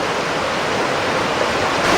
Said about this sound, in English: Right by these little waterfalls.